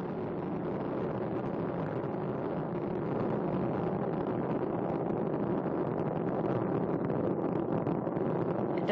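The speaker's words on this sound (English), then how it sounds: "Endeavour's engines were throttling down as the orbiter passes through the area of maximum pressure on the vehicle" Space Shuttle Endeavour's main engines thunder through a launch from Kennedy Space Center, a continuous, dense, far-off roar of steady broadband rumble holding level throughout with no voices.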